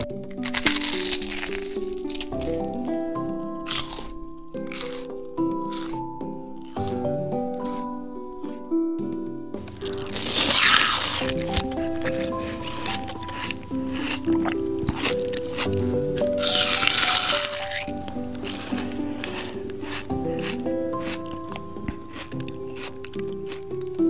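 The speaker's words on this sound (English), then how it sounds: "I brought a snack." Someone eating a crunchy snack, with close, irregular bursts of crunching and chewing set against a tonal musical background, quieter at first and then louder in the later stretches.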